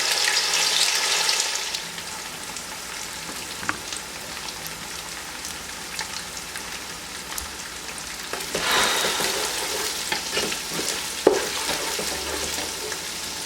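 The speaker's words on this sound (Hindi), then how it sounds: "तेल को यहाँ पर गर्म कर लें, उसमें आप ऐड करेंगे जो कि ग्राइंड किया हुआ प्याज है" Steady sizzling and crackling of ground onion paste frying in hot oil over a high flame, with occasional stirring clinks and a brief louder burst partway through.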